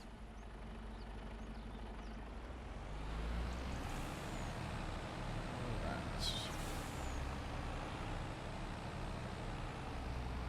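Truck engine rumbling steadily in the Farming Simulator 25 video game, with loud air-brake hisses bursting out around the middle of the clip over continuous low engine noise.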